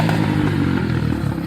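Dirt bike ridden through thick mud on a muddy trail among trees, its engine a steady loud low rumble with rough clattering and scraping throughout, close and continuous with no talk.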